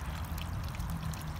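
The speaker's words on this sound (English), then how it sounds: "Here's a beautiful fountain. Calming little trickle here." A garden fountain trickles and splashes steadily, a continuous close wash of falling water with no other sounds standing out.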